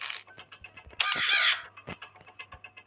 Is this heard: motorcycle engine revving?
no